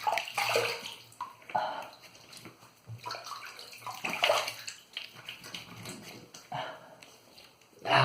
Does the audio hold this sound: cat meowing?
no